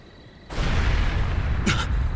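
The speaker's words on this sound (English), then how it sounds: "What was that explosion?" A sudden explosion bursts at a villa in Trails Through Daybreak II, a sharp onset followed by a sustained, loud rumbling roar with a brief brighter crackle near the end.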